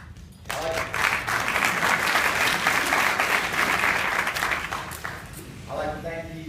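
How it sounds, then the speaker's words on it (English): An audience at a Captain Shreve High School Circle of Honor ceremony breaks into a round of applause that swells quickly and holds steady and fairly loud before fading, with a voice returning at the close. "I need everyone to join me in a round of applause"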